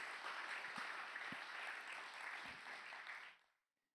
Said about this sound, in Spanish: Que alguien pueda aplaudir, por favor,